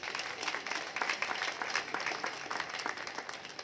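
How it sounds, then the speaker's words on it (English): A business event audience in Jamaica gives a round of applause, a soft spread of many hands clapping with uneven bursts, heard alone at a moderate distance. "Please give them a round of applause"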